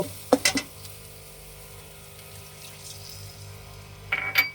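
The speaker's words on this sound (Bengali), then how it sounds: "এখন একটু পানি দিয়ে দেব।" A little water is poured into a frying pan with onion and chili paste, a brief splash and clatter at the start, then a quiet simmer and another short burst near the end.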